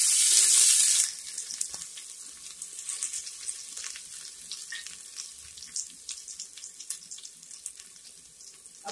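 Ginger, garlic and green chillies frying in hot oil for a Tamil thatta payaru curry: a loud hiss as they hit the pan, then a steady, busy crackle and sizzle that stays close and continues alone.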